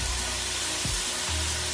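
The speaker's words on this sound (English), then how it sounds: "the carrot is fresh and hard, so you have to stir fry a little" Fresh, hard carrots stir-fry in a pan for fried rice, a steady broadband sizzle and hiss running the whole time with a couple of low knocks, close by and without speech.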